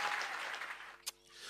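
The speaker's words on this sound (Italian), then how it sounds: "Un applauso, facciamo sentire." Studio audience applause on an Italian TV music show, a steady crowd clapping that fades toward the end, cut by one brief sharp noise.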